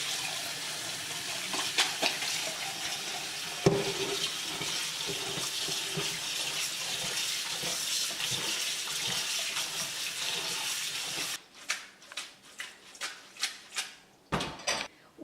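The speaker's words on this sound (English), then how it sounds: "I'm going to rinse the noodles in cold water." Tap water runs steadily into a sink over cooked jjajangmyeon noodles being rinsed in cold water, a close hiss for about eleven seconds, then stops, followed by a few soft clatters and knocks from handling the noodles.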